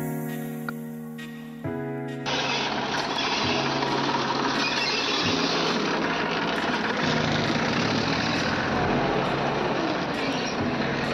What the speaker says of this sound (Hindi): तो चलिए अब हम आपको ये ट्रैक्टर चला के दिखाते हैं।